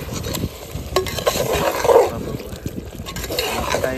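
Oil-fried jackfruit and mutton for biryani being stirred in a pan, with a steady sizzle under continuous scraping and stirring strokes, close and moderately loud, no talking.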